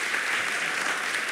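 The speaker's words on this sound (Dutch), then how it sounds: "En ik wil dus als eerste een hartelijk applaus voor Margriet van Hees." Audience applause at an evening cultural talk on gender, a dense, steady wash of clapping that stays at an even level through the brief moment with no voices.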